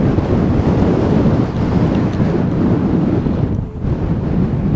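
Strong headwind buffets the microphone of a budget electric scooter on the move, a loud continuous low roar and rumble that drowns out everything else with no break.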